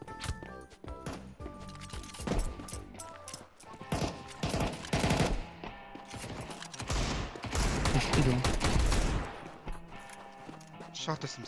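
Rapid video-game gunfire crackles in dense bursts and volleys throughout, loud and close, with the shooting rising to a heavy, sustained barrage near the end over a busy game soundscape.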